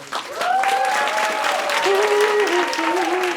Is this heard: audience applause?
yes